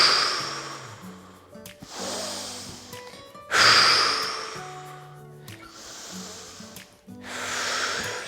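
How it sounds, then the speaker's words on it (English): Slow deep breaths during a guided breathing exercise in a fitness movement session, several long inhale-exhale cycles in steady rhythm, close and clear, with soft background music underneath. "So let's take 5 more breaths."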